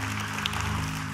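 A church congregation claps its hands in steady, diffuse applause during a Sunday service, a soft patter of many hands spread under sustained organ-like music tones.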